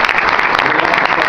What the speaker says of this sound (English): We clap for everything.